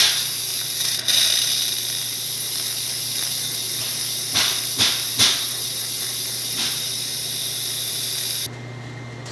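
Steam wand on a Zacconi lever espresso machine hissing steadily and loudly for about eight seconds, with a few short bursts and sputters partway through before the hiss is cut off abruptly near the end.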